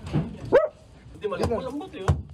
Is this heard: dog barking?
yes